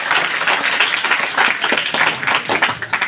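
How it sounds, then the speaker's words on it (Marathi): Audience applause at an inauguration ceremony for a young poets' reading: dense, steady clapping from a crowd, fairly loud and close, lasting throughout with slight swells. "तुमच्यासाठी एकदा तुम्हाला टाळ्या वाजवा"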